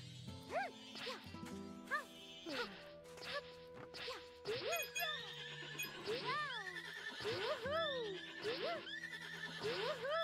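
Horse neighing and clip-clopping hooves in a Wild West stage of the video game Princess Peach Showtime, with repeated loud whinnies and hoof clatter over busy game music, close and continuous.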